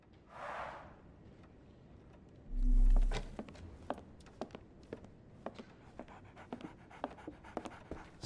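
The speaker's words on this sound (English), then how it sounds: "So, Barnes has a dog now. Who's a good boy?" A dog pants in short breathy bursts in the Sherlock Holmes: The Awakened video game, set in London, with a brief low thud partway through and scattered soft taps and clicks around it.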